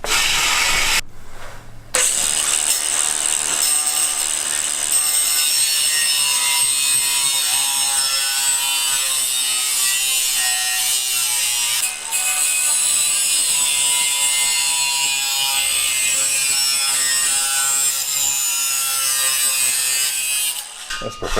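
A tool cutting slits into metal exhaust pipes before mufflers are fitted, a continuous loud rasping and grinding that runs almost without a break, with a short pause near the start and another near the end.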